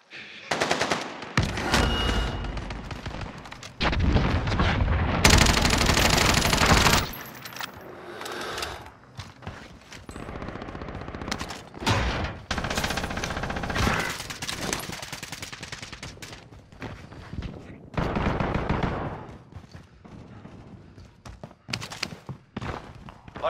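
Rapid bursts of automatic gunfire from the Call of Duty Warzone video game on Rebirth Island, with loud sustained volleys and scattered shorter shots, some near and some distant, mixed with game effects.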